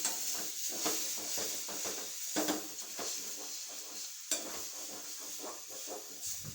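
A spatula stirs beaten egg seasoned with pepper together with capsicum in a hot pan, giving steady scraping strokes over a soft, continuous sizzle with occasional sharper clinks against the metal.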